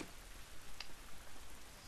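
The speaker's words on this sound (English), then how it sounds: "This rain ain't gonna do us any good." Steady rain in The Last of Us Remastered video game, a soft, even outdoor hiss with a few faint droplet ticks, quiet and uninterrupted by voices.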